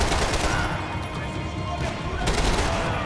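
Dense bursts of gunfire from the Max Payne 3 video game, including a headshot, sound loud and continuous throughout with no talking over them.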